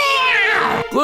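A cartoon cat in an animated series gives one loud, drawn-out meow that slides downward in pitch, then a brief gap and a short rising cry right at the end.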